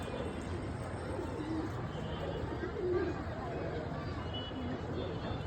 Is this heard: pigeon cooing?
yes